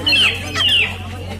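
Local free-range chickens at a village market give two quick, high clucking calls up close, with murmuring market noise underneath.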